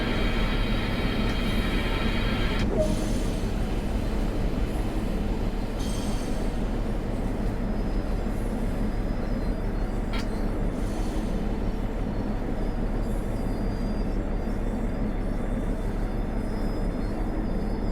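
DB G6 diesel shunter braking to a halt in Train Sim World 2, a steady low rumble of rolling wheels and engine with brief high brake squeals and hiss early on, continuing evenly without speech.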